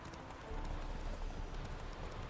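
Horse galloping in The Witcher 3, a continuous fast clatter of hooves, fairly close and steady for a couple of seconds.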